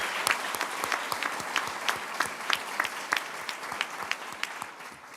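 Dense, steady applause fills a room at a fall attorney induction ceremony as the audience honors the new inductees, sustained and even throughout with no voices on top.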